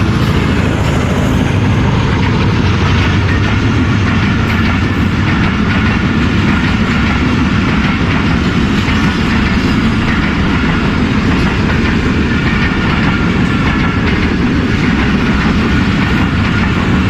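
The Awam Express, a passenger train running between Karachi and Peshawar, rolls past near Lahore in smoggy, foggy weather, a loud sustained rumble with rhythmic clickety-clack of wheels over rail joints throughout.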